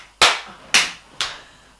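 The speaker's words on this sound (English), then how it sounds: "Oh, I had an extra clap." Three sharp, separate hand claps ring out close and loud, evenly spaced about half a second apart, each snapping off quickly with no voices over them.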